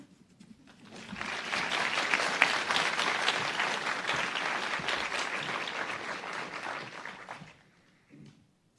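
Audience applause at the 31st Annual Emerald Awards ceremony swells quickly into a full, dense round of clapping, holds steady for several seconds, then tapers off with a few last scattered claps.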